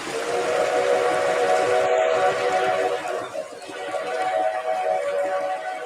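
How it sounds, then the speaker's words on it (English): Rio Grande railroad steam locomotive whistles blow loud and sustained, one long chime-like blast running for several seconds, then dipping and sounding again over a steady background. "Here's some whistles of the Rio Grande."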